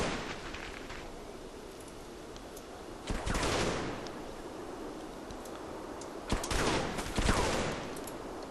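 Distant gunfire from the World War II strategy game Combat Mission Market Garden, heard as two short crackling bursts of rifle and machine-gun fire over a steady background hiss.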